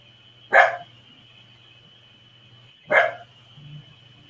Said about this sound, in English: She's growling, whatever it is.